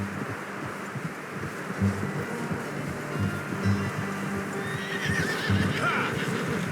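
A horse whinnies and snorts over a steady outdoor ambience in the video game Red Dead Redemption 2, with faint hoof clops and a high rising neigh toward the end.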